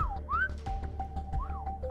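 Orca whistle calls sound as rising and falling tonal sweeps over a sustained steady whistle tone, set against a low underwater rumble, with no talking.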